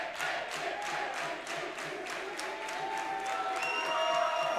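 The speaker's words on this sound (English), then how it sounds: "A round of applause also for Nick Colomia." Audience applause at an international axe throwing championship, a steady wash of clapping from a crowd with scattered cheers and some voices mixed in, holding evenly throughout.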